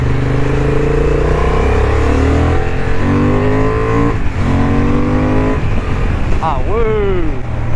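A 2023 Honda CB750 Hornet motorcycle accelerates hard through its gears with a quickshifter, the engine note climbing, cutting briefly at each shift and climbing again, loud and close, with a rider's voice speaking near the end.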